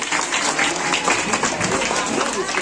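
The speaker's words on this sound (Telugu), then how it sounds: "ఇంకొకసారి చప్పట్లు పడుతున్నాము" A crowd at a children's dance event applauds in a close, dense clatter of many hands, steady and unbroken for the few seconds heard.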